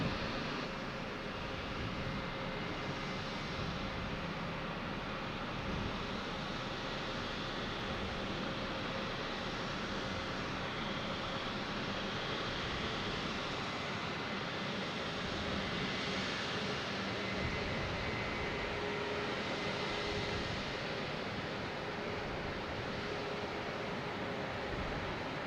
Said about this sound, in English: All right, Aer Lingus coming in from Dublin.